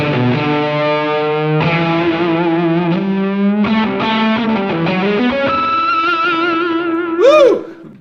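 An electric guitar runs through a germanium-transistor fuzz pedal in a Tone Bender style, cranked loud: sustained, heavily distorted chords and single notes ring with thick harmonics, ending in a squealing bend.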